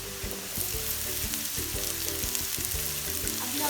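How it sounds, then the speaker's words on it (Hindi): Onions sizzle and fry steadily in a pan for an Afghani cheese omelette, a continuous close crackle with faint stirring scrapes throughout. "चलिए जब इसमें डालेंगे प्याज"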